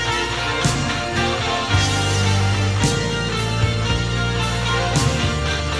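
Sustained electric guitar notes with a bend, each repeated faintly by delay echoes, over a dense backing of music.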